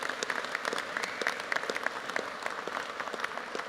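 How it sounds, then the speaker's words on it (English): An audience claps at a political speech, a sustained spatter of applause that stays moderately loud and even, heard from some distance with no talking over it. "St. Augustine, do you hear the applause you got?"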